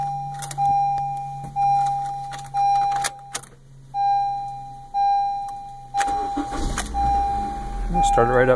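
A Honda Civic running on a lithium battery cranks in a series of short, rhythmic whirring bursts about a second apart, then catches and settles into a close, rumbling idle.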